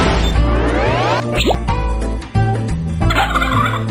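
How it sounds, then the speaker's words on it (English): Video game chicken squawks and gobbling sound effects burst out repeatedly, mixed with quick plops, whacks and tonal game blips in a loud, busy sequence. "Chicken sound again."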